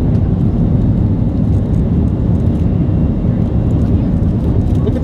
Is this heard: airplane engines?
yes